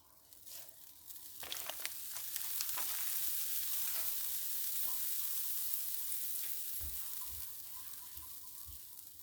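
Half a stick of butter sizzling in a pan over medium heat for shrimp ramen, a hiss that swells quickly and holds steady with light crackles and a few soft scrapes, close.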